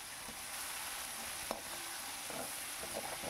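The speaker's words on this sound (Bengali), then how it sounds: "পেঁয়াজটা বেশ ভালো করে ভাজতে হবে" Chopped onions fry in a pan as the base for curd chicken, giving a steady close sizzle with occasional soft spatula scrapes as they are stirred; no one speaks.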